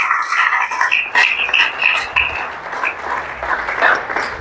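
A church congregation at an evening French-language service breaks into sustained applause and cheering to acclaim the Lord, a dense, continuous clatter of clapping that swells and dips throughout, with a few voices faintly rising above it.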